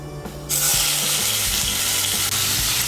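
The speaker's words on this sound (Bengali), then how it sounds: "এর মধ্যে আমি নুন হলুদ মাখা মাছগুলো হালকা একটু ভেজে নেব" Rohu fish pieces coated in turmeric and salt hit hot oil, bursting into a loud, close, crackling sizzle after a brief quiet start, then frying steadily with no voices.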